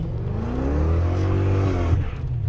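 A BMW's engine revving hard as its wheels spin while pulling away, a loud, steady engine roar with a rising and falling pitch from close by.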